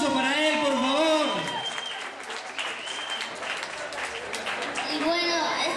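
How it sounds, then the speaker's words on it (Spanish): An audience applauds a young DJ at a lively Venezuelan rumba event, steady dense clapping filling the whole stretch, with an amplified voice and music-like tones over it at the start and end. "Un fuerte aplauso para él, por favor."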